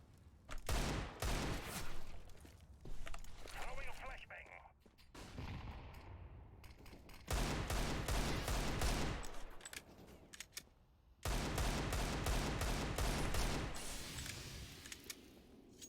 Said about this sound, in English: So you heard someone shoot and a Molotov at the same time.